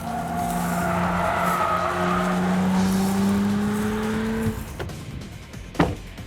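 A new four-wheel-drive car with a nose-heavy weight balance is driven hard, its engine droning loudly and steadily with tires squealing as it slides, the strain dropping away near the end before a brief thump.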